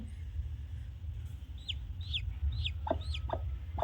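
A chick peeps from inside an unhatched chicken egg: a run of about six thin, high, rising-and-falling chirps in the second half, close and fairly clear over a low background hum.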